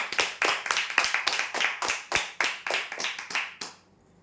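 Audience at a prize draw clapping in unison for a winner, a steady rhythmic beat of about a dozen loud, close claps that stops abruptly near the end.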